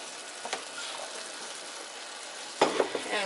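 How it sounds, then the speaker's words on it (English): Onions land in a hot pan for a budget homemade lasagna, producing a soft, quiet frying hiss with a sharper burst of sizzle and clatter near the end. "And I'm going to put some onions in there."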